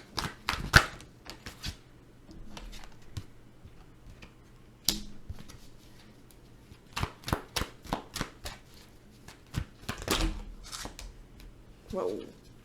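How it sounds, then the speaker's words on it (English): Tarot cards being pulled and shuffled, with soft papery flicks and snaps scattered through the clip, some quick clusters, under and between a person speaking. "Let's pull some more cards here"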